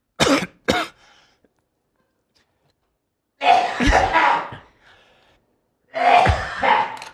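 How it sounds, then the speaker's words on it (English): Loud coughing: two sharp, close bursts open the sequence, then after a pause come longer, harsh fits of rough coughing, each lasting a second or more. "the cough was so loud, we still hear it"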